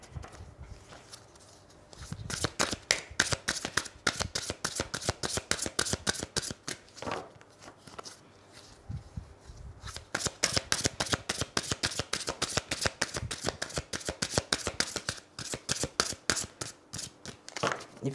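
Tarot cards shuffled by hand for a card reading: rapid, crisp riffling and slapping in repeated bursts, close and steady, with a short pause partway through.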